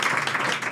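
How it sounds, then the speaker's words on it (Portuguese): A live podcast audience gives a brief round of applause, a dense, soft wash of clapping that continues without a break. "salva de palmas"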